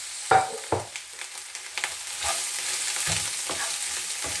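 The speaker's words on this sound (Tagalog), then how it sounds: "Lagay tayo ng garlic and onions." Garlic and onions hit a hot frying pan for chicken pastil, giving a soft steady sizzle with a few sharp clatters of stirring near the start.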